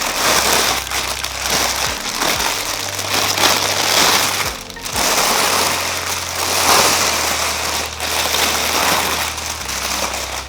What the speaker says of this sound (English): So let's unbox.